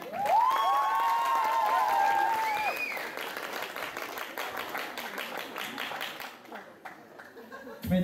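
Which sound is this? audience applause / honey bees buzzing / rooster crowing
audience applause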